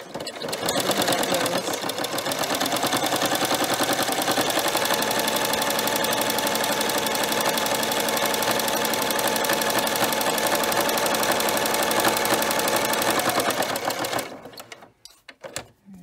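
A sewing machine with a knit foot runs a straight triple stitch through two folded layers of knit fabric, giving a loud, fast, even mechanical rattle for about fourteen seconds before it slows and stops, followed by a few faint handling clicks.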